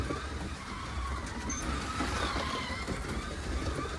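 A Scalextric slot car bought from a model shop runs smoothly around its track, giving a steady, continuous motor whir and rumble with no talking.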